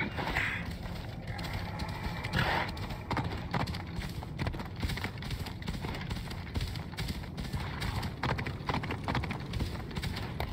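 A horse's hooves clip-clop in a steady galloping rhythm across Assassin's Creed Odyssey game terrain, moderately loud and continuous alongside faint mechanical rattles and ambient game sounds.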